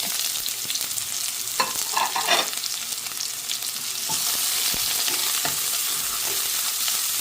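Shallots, green chillies and garlic sautéing in coconut oil, a steady close sizzle with occasional scraping stirs of a spatula, no voices.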